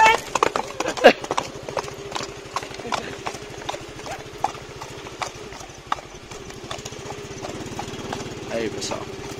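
A mare's hooves clip-clop at a steady, even pace on hard ground outdoors in the dark. The strikes are fairly close and continuous, with a low motor-like hum and a few louder knocks early on.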